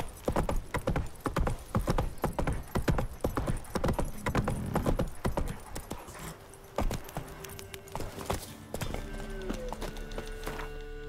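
Horse hooves clip-clop steadily at a brisk, even rhythm in The Witcher 3, close and loud, then thin out toward the end as other game sounds creep in.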